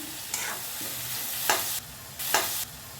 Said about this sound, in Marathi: आता चवीनुसार मीठ घालून ह्याला थोडंसं परतून घेऊया